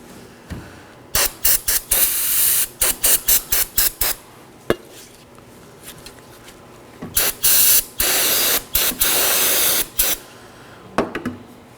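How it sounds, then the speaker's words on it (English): Brake cleaner sprays onto the front brake parts of a 2018-2024 Chevrolet Equinox in a string of short and longer hissing bursts, close and loud, with small metallic clicks between them and no talking. "I'm going to clean these with some brake clean."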